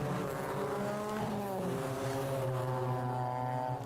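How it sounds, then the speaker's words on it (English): TCR touring race cars revving past the pits behind the safety car at Brands Hatch Indy, a continuous layered engine drone with rising and falling pitches as several cars pass, loud and steady throughout. "Nice noise they make as they rev past the pits behind the safety car."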